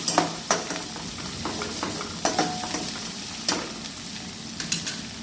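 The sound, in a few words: onions with turmeric sautéing in a pan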